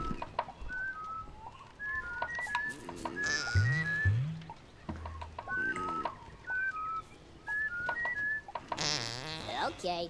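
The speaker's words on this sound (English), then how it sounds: "it's up and down for the two whistles and to the right for the fart" A character in the Oddworld video game gives repeated two-note whistles in a chirpy, up-and-down pattern, with a couple of low fart sounds in between and a burst of game noise near the end.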